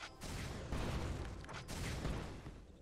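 Corki's Missile Barrage fires in League of Legends in quick successive blasts, giving dense, loud bursts of explosive noise, two clear pulses in under three seconds.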